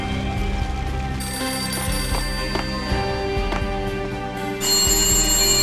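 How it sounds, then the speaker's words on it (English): An old, beaten-up telephone rings in an entrance hall in the Max Payne video game, its bell sounding repeatedly in steady bursts beneath a sustained musical drone that swells louder near the end. "A beaten-up phone in the entrance hall was ringing."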